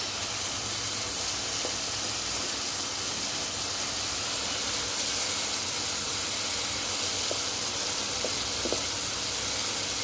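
Spice masala fries in oil in a pan for a pabda fish curry, giving a steady, close hiss and sizzle with no talking.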